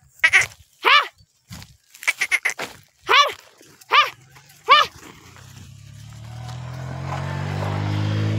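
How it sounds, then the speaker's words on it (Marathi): A goat bleats about six times in quick, separated bursts, close and loud, followed by a steadily rising rushing rumble that fills the background. "ते कोणती तरी बकरी होती मित्रांनो"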